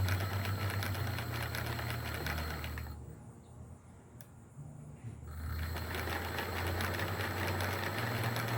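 An LD-F1 track toy running in its slowest mode gives off a steady, close mechanical whirr with a low buzzing hum, dropping briefly quieter midway before resuming at the same even level.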